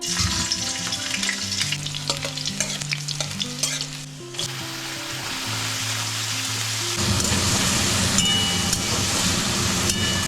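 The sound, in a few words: vegetables frying in a wok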